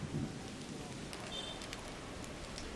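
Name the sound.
rain falling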